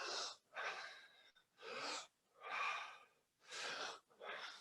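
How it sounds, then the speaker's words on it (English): A person takes a series of deep, slow breaths during a relaxation breathing exercise, each long airy inhale or exhale close and distinct, about six in steady rhythm with short gaps between. "Big inhale."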